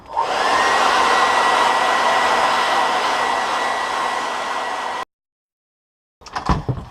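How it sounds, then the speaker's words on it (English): A blow dryer roars steadily and loudly for several seconds, drying thin paint on a Monster Clay and rubber casting, then cuts off abruptly, followed by a brief silence and some faint handling noise. "You can also use a blow dryer to finish it up."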